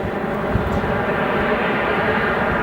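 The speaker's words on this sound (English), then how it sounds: "You guys are going to get the amazing spool-up sounds of this aircraft, as well as the 7878 Dreamliner heading to Athens" Boeing 787 Dreamliner jet engines spool up at Chicago's O'Hare airport, a loud continuous broadband roar close by that holds steady throughout.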